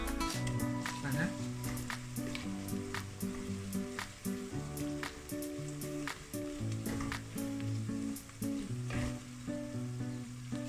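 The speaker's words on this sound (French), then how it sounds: "nous allons ajouter notre ail que nous avons finement découpé" Finely chopped garlic sizzles steadily in oil for Cameroonian poulet DG, crackling throughout with a person talking over it.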